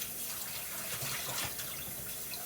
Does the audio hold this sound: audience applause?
no